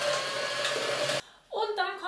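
An electric hand mixer whirs steadily while stirring vanilla sugar into a cream, cuts out abruptly, and then a voice speaks briefly.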